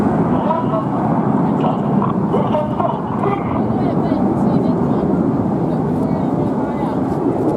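Red Arrows jets flying an air display produce a loud, steady, broad roar with wind buffeting that runs continuously under a voice talking.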